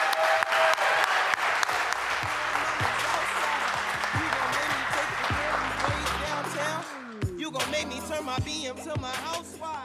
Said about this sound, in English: So let's applaud the People's Choice, Can TV's Sylvia Snowden.